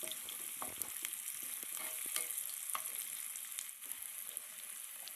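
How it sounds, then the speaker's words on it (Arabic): Tomatoes and vegetables sautéing with bay leaves in a pan as a base for homemade chicken broth: a steady, fairly quiet sizzle with occasional clinks and scrapes of stirring, no voices. "فهنشوحهم الأول هنا، وهنضيف عليهم ورقتين لورا"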